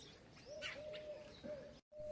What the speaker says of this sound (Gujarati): જો પંખી બધા દાણા ચડવા આવ્યા.